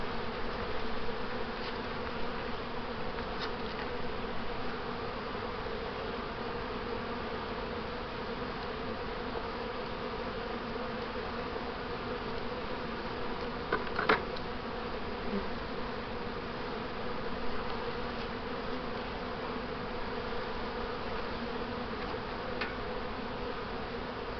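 Honeybees drone in a steady, even buzz while working comb frames on new foundation in an open hive, the hum continuous and close throughout, marked by one brief knock partway through.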